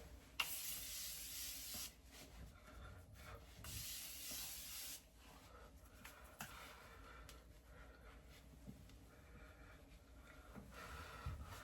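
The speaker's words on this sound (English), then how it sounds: "And then I'm gonna use the Morphe setting spray," Two long, breathy hisses of a Morphe makeup setting spray misting close by, followed by quieter rustling and handling sounds with no talking.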